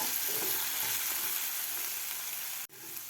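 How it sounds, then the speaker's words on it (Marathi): Moong dal frying in oil in a pan, a dense, continuous sizzle with faint stirring, close and steady, with a brief cut near the end and no talking. "डाळसुद्धा आपल्याला एक मिनिटभर व्यवस्थित परतून घ्यायची आहे तेलामध्ये"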